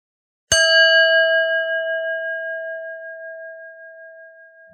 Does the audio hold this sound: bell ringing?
yes